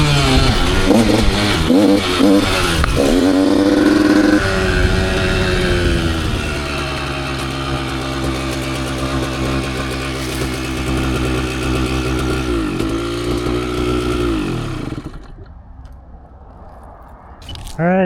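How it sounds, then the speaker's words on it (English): A 2021 Yamaha YZ85 two-stroke dirt bike ridden from an onboard view: the engine snarls loudly and constantly, revs rise and fall through the gears, then it cuts to near silence at the end. "I'm on a little 85 two-stroke."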